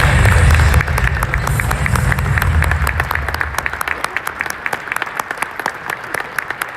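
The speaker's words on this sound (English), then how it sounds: "So I want everybody to give a standing ovation for Alan Russell real quick." A crowd at a high school basketball showcase rises in a standing ovation, loud sustained applause that gradually thins into scattered individual claps, with faint voices underneath.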